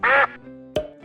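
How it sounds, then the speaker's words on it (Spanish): A farmyard duck gives one loud, nasal quack, followed by a quieter pause and the start of a second quack near the end, with no voices. "el pato hace cuac cuac cuac"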